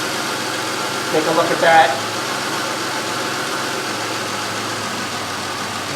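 A 2003 Chevrolet Impala engine idles with an intermittent high-idle fault, giving a steady, even hum that runs the whole time, with a brief short remark from a person near the start.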